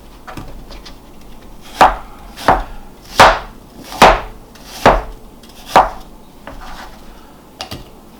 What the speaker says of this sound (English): And then I'm going to slice thinly.